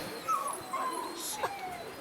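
A dog at a dog-training demonstration in Rambouillet gives short whimpers and yips in brief bursts over about two seconds, moderately close, with faint voices around.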